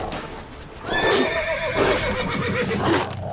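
A horse in a video game whinnies loudly and shrilly in a drawn-out neigh while attacked by a dog, with hoof clip-clop and a steady background hum underneath.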